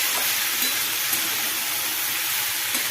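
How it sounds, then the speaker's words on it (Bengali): Boiled taro stolons are stirred into spice paste in a hot pan, making a steady, close sizzling hiss with faint scraping. The sound runs continuously without pauses and with no voices. "এবার এটাকে ভালো করে নাড়াচাড়া করব।"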